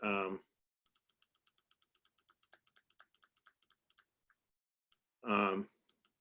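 A quick run of light keyboard clicks, steady and close, typing for a few seconds between short bursts of speech at the start and end.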